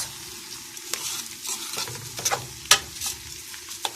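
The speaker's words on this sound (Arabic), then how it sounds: "انا اهو هشوح الشعريه والرز" Vermicelli and rice being sautéed in a pot, a steady close sizzle broken by sharp scraping stirs and clinks of a utensil against the pot, with no talking.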